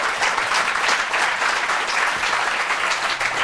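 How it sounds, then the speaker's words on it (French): Loud, dense applause from a studio audience at a French televised contest show, many hands clapping steadily and evenly for the whole stretch, with no voices on top. "qu'une salve nourrie d'applaudissements pour René Marc et Candidator"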